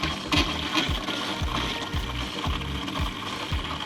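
An RV water pump runs as it draws pink antifreeze during winterizing, giving a steady mechanical whir with a rapid, regular ratcheting pulse, close and alone.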